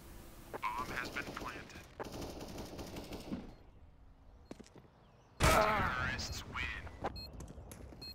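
Gunfire in the video game CS:GO sounds as short rapid bursts of automatic shots, loud and close, mixed with clicks and game effects while players chat over it.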